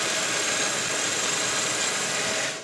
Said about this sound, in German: Hier an der Standbohrmaschine bohre ich jetzt mit einem 8er Bohrer da zwei Löcher hinein.